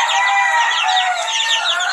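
Chicks or young chickens for sale in a poultry setting, a dense chorus of high, continuous peeping and cheeping from many birds at once, loud and close without pause.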